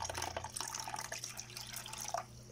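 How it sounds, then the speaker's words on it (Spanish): Hot water being poured continuously, a steady close splashing and trickling stream with no gaps, moderate in level and free of speech. "le van echando agua caliente"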